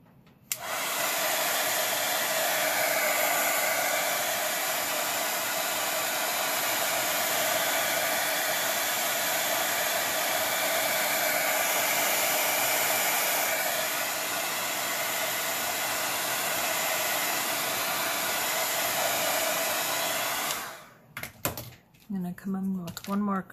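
A hair dryer blows steadily and loudly, drying paint on a small rock fairy house, then cuts off near the end, followed by a few clicks and knocks.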